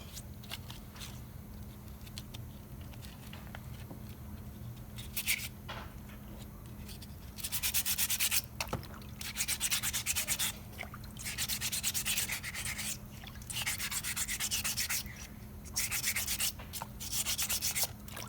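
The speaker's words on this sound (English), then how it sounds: "So I'm sanding a little bit the sides of the model, but not a lot." The sides of a set plaster dental model are sanded by hand, giving a soft, close scratchy rubbing in repeated strokes over a low background hum, with no talking.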